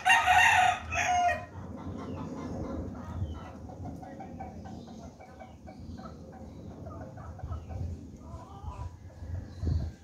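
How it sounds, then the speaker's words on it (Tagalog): A rooster crows loudly at the start, followed by chickens clucking softly nearby amid quiet background sounds. "nandoon yung aking mga alagang manok"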